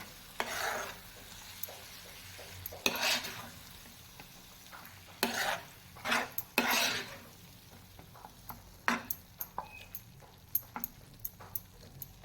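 A spatula works through a prawn masala mixture in a pan, giving irregular bursts of scraping and stirring with short sharp clinks, close and fairly loud, separated by quieter gaps with no talking.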